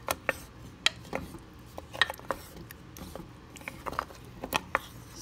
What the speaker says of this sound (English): we're just going to stir this around, and it'll be easier to stir as it warms up